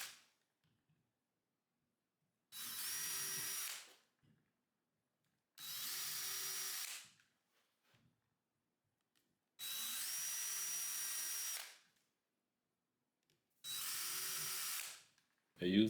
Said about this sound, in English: Pre-drill the holes at the top of the frames, using a smaller bit than earlier,